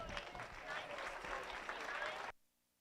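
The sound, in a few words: audience applause at county fair hog show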